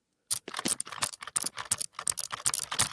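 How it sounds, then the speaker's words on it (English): Typing on a low-profile keyboard with Gateron KS33 blue clicky switches, a rapid run of sharp, close clicks in an uneven burst rhythm. "There are these really nice low-profile Gateron KS33 blue switches, which are loud and clicky"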